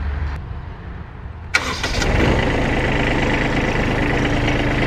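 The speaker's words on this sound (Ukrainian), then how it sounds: "Зараз я вам продемонструю, як працює сам тракторець, як вмикається" A small Kubota B72 tractor engine cranks briefly, then catches and settles into a loud, steady, close-up diesel idle, with no talk.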